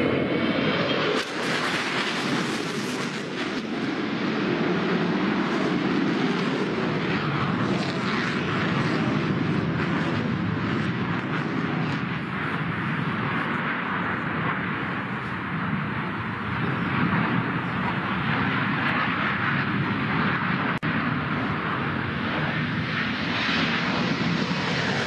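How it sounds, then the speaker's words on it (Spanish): Mirage 2000 fighter jets passing overhead during a military air parade, a loud, steady broadband engine roar that fills the whole stretch without letup. "Ahora vamos a observar el desfile aéreo y ahí vemos a los aviones Mirage"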